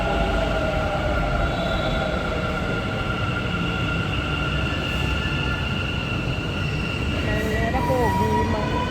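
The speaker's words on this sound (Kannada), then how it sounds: "ಮೆಟ್ರೋ ಇಲ್ಲಿ ಅದ ನೋಡಿ ಫ್ರೆಂಡ್ಸ್ ಬಂದು" A metro train in Bengaluru rolls into a station with a loud, continuous rumble, steady whining tones and squealing wheels, and faint voices underneath.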